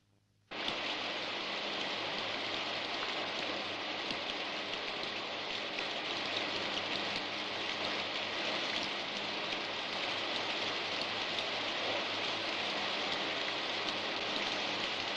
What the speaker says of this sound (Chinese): 天快下雨了